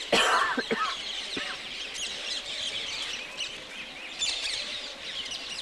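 Many birds chirp and tweet in a busy outdoor chorus along the pilgrimage path around Vrindavan, with overlapping calls from several directions over steady background noise.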